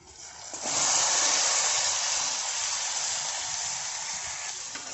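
Okra (bhindi) hits a hot pan and breaks into a broad, steady sizzling hiss that swells quickly and stays even, moderately loud with no talking over it.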